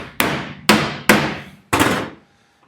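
A wide slapper hammer strikes a metal car body panel four times in uneven rhythm, each sharp close slap ringing briefly before fading into quiet.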